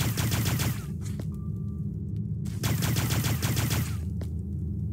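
Repeated weapon shots from the sci-fi game Starbound, fired in quick trains of bursts with brief pauses between, steady and fairly loud over a continuous game background, no talk.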